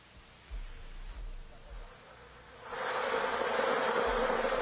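Honeybees buzz in a steady, droning swarm, starting soft with a few low thumps before swelling into a louder, dense hum partway through.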